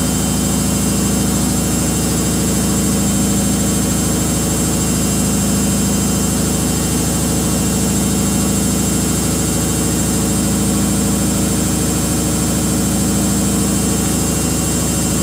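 A Samsung washing machine on a Daily Wash cycle spins at a limited speed, giving a steady, loud mechanical hum and rumble with constant vibration and no pauses.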